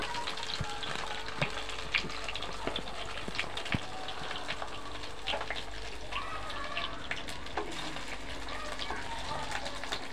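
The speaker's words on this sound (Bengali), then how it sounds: "দেখুন আমি এগুলো ভেজে নিচ্ছি" Stuffed pointed gourds (potol dorma) frying in hot oil in a pan, a continuous close crackle with small pops and occasional utensil clicks, a faint voice murmuring in the background.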